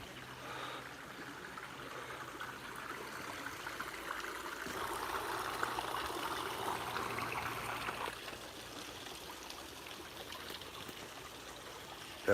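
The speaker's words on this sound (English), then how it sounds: "There's a little waterfall there." A small outdoor waterfall sends up a steady, even rush of flowing water that continues without a break throughout.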